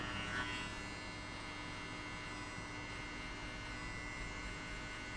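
Electric hair clipper running steadily near the head while shaving off hair below the guideline of a zero mid fade, a continuous buzzing hum with no talking.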